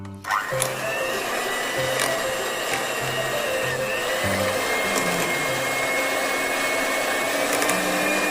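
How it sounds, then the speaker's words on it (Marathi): Electric beater whipping homemade hung curd for shrikhand, a loud steady motor whine that starts abruptly and runs on continuously with faint tapping against the bowl, close and without talk. "पहिला आपण ह्याला बीटरने फेटून घेऊ."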